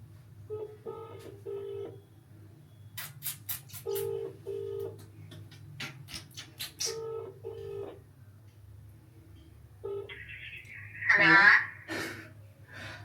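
Repeated electronic phone tones sound in short pairs with pauses between, a ringback pattern on a call, followed by a voice answering.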